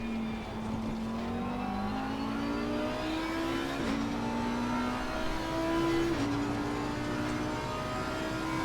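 Race car engine in the Assetto Corsa Competizione video game, a steady rising whine climbing through several upshifts, with another car's engine passing alongside, moderately loud and continuous.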